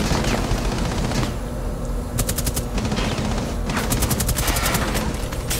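Rapid automatic gunfire in Rainbow Six Siege, in team deathmatch on the Yacht map, comes as two loud bursts of rapid shots over a steady bed of in-game noise, with no talking.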